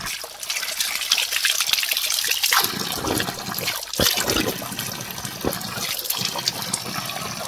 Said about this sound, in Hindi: ये सदाबहार मीठे पानी का धारा है। ये देखिए, एक में कम आ रहा पानी, एक में ज्यादा आ रहा है